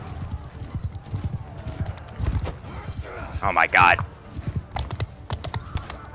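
Hoofbeats of galloping cavalry in a Bannerlord battle clatter close and loud, with a horse whinny partway through and a man's brief exclamation over the fighting.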